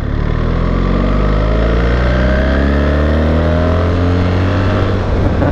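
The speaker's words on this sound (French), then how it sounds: "On va faire un truc, je vais claquer toutes les vitesses. On est en 4 à 1000 tours minute." A BMW R1300 GS motorcycle accelerating hard through its gears, the loud, close engine note climbing repeatedly in pitch with each shift over about five seconds, with no voices.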